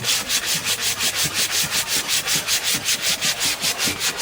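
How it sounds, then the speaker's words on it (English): Someone sands a wooden bowl by hand with 150 grit sandpaper, giving a close, loud, rhythmic rasp of quick even back-and-forth strokes that continues throughout, with no talking. "I'm working with 150 grit sandpaper today."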